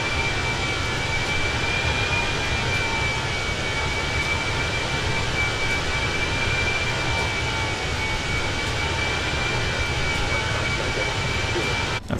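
Airbus A320 jet engines in Microsoft Flight Simulator 2020 hum steadily under autothrottle on an Austrian flight, a constant loud drone with a sustained high whine held through the whole span.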